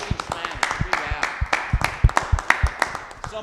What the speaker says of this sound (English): How about a big round of applause for our cameraman